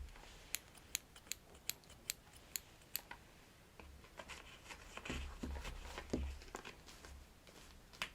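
Small scissors snip embroidery thread near a hoop, giving about ten crisp, evenly spaced clicks close up, then a softer stretch of rustling handling.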